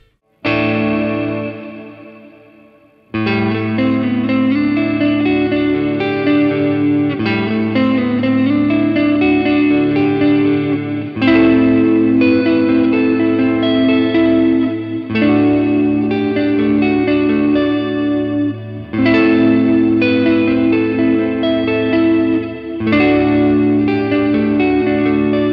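An electric guitar plays sustained chords through a Fender Pugilist distortion pedal and Marine Layer reverb, loud, saturated and washed with long reverb tails, with a short quieter note ringing out before the full strums begin.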